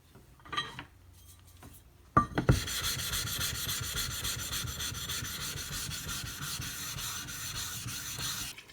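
Kershaw Launch 11 knife with an off-center factory grind being sharpened on an abrasive, a steady close rasping scrape running for several seconds after a few brief handling knocks.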